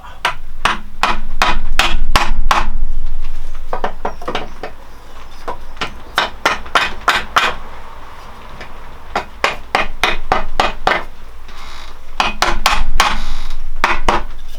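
A hammer taps a snug-fitting part into place on a Suzuki GS500 scrambler's new under tray, striking in sharp, loud, close metallic bursts of rapid blows separated by short pauses.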